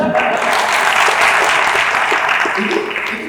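An audience at an oration bursts into loud, sustained clapping that fills the room evenly and tapers slightly at the end.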